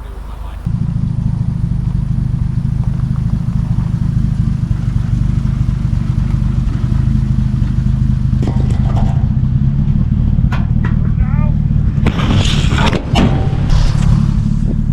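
A 1950 Dodge Meadowbrook with failing brakes drives along, its engine giving a steady low drone heard from inside the car, with bursts of clatter and rattling near the end.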